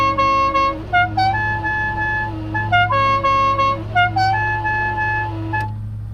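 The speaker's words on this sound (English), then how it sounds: "I did buy a replacement horn off of eBay" A replacement horn on the General Lee car plays a loud, close musical tune of repeated stepped notes for about six seconds, ringing out steadily over a low engine-like drone before cutting off.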